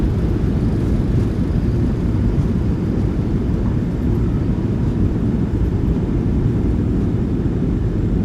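A PMDG 737-800's thrust reversers roar on landing in a flight simulator game, a loud, continuous low rumble that holds steady throughout with no talking.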